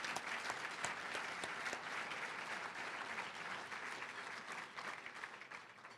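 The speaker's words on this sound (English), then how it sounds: "Please join me in giving them a round of applause" A gala dinner audience gives a steady, sustained round of applause, a dense wash of many hands clapping that holds at an even level throughout, with no one speaking over it.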